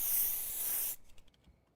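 A spray paint can hisses in a single sustained burst in the video game Schedule I, then cuts off abruptly, leaving only faint scattered clicks and quiet afterward.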